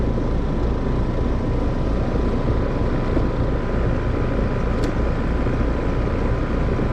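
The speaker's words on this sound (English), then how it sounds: "It is a fan motor" A noisy fan motor in a failing compressor unit runs with a loud, constant broadband whirring roar, steady and unbroken throughout with no voices.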